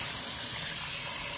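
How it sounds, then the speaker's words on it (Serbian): Water gushes steadily into a pot of beans with tomato, a close, continuous splashing pour lasting just over a second. "sipamo vodu."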